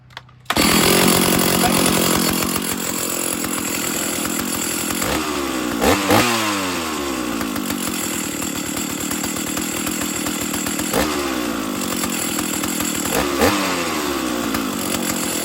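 A Stihl 032 AV chainsaw, fitted with a brand-new carburetor, is started with no throttle and no choke. After a quiet moment it fires into a loud, steady close-range engine drone that swells in a few brief revving bursts. No one speaks.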